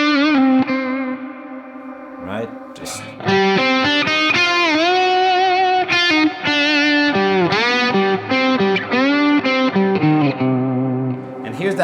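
Electric guitar drenched in a big, spacious hall reverb from a Source Audio pedal, playing a twangy Jeff Beck-style line with bends; notes ring into long washy tails, loud and continuous, with a brief spoken word near the start.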